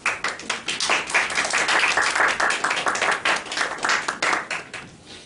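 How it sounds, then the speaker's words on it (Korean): A church congregation gives loud, vigorous applause to welcome the pastor to the front, many hands clapping close and fast in a continuous, slightly pulsing burst that runs throughout. "앞으로 오실 때 큰 박수로 모시겠습니다."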